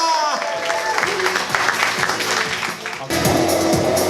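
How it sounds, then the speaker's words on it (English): Audience applause for a singer at a talent show semi-final, a steady dense wash of clapping with music or tones running underneath, briefly dipping near the end before resuming loudly. "Give her a massive round of applause."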